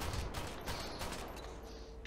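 A burst of gunshots fired at a man in the UHRP video game, several rapid cracks clustered near the start and then trailing off, fairly quiet and distant-sounding with no talk over them.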